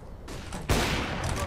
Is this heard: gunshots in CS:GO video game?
yes